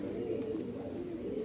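Home-kept male Madras and Andhra pigeons give a steady, low, continuous coo, close and moderately loud over a brief stretch.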